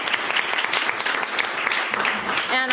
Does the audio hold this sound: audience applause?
yes